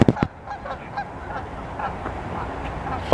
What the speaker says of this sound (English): Fucking goose.